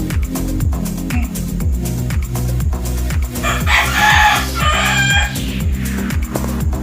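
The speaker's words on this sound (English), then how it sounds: "The chickens are already up." Chickens crow and cluck repeatedly close by, loud and layered over a steady rhythmic background, with a brighter crowing call rising in the middle.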